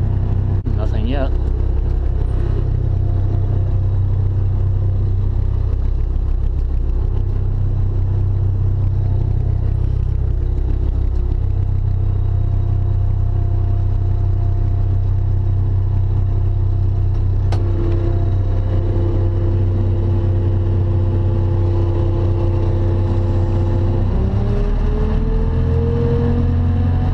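A car engine runs at a steady, loud idle drone, then its pitch climbs as it revs up near the end, while people talk over it.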